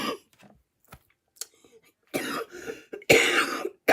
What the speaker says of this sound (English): So apologize if I cough occasionally.